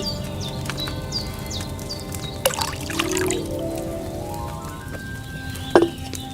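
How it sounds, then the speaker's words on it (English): Wine poured from a pitcher into a cauldron in Kingdom Come: Deliverance II, a soft trickling stream over quiet background ambience, with a couple of sharper clinks near the end. "So, what did you pour in there? Wine, of course."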